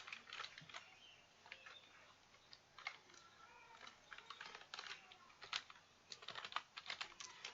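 Typing on a computer keyboard while entering a name and password, with quick irregular clicks and short bursts of keystrokes, close but fairly quiet, no voices.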